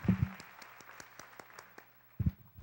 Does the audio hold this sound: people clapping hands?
yes